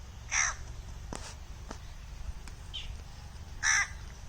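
Crow caws twice, clear and fairly near, spaced apart against a quiet rural background in a village in Uttar Pradesh, with a brief faint chirp between.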